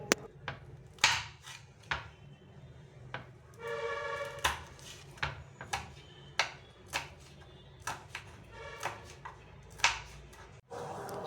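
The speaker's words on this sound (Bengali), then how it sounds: "এই পেয়ারা মাখার জন্য ধনেপাতা আর একটা কাঁচা লঙ্কা ছোটো ছোটো করে কেটে নিতে হবে, একদম কুচি কুচি করে" A knife chops fresh coriander leaves and a green chili finely on a board for a guava mix, giving a run of sharp, irregular close taps with short pauses between them.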